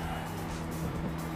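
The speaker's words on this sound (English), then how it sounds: "When your tires squeak, it's not good." An Alfa Romeo in Gran Turismo 5 squeals its tires through a corner, a steady tonal screech layered over a droning engine for a brief, loud moment.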